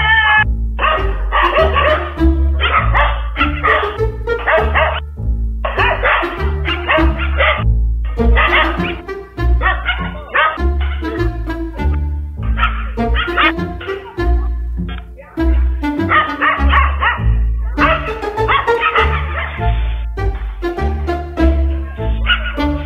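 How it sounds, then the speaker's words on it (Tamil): A pack of village dogs barks together at an elephant, a dense, continuous chorus of overlapping loud barks and yips with some whimpering, sustained and agitated throughout. "அங்க இருக்கக்கூடிய நாய்கள் எல்லாமே ஒண்ணு சேர்ந்து குறைச்சிருக்கு"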